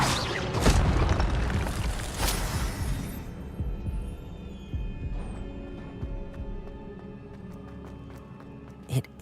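Fiery spell effect in a Harry Potter video game: a loud booming burst opens, then a second blast, fading into a lower rumbling crackle with scattered small pops and a sharp hit at the end.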